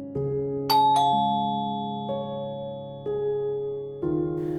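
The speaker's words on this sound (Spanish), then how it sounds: "Se acercó a la puerta y llamó al timbre." A doorbell rings at a dark house, several clear tonal chimes struck in sequence, close and resonant, each note ringing out before the next.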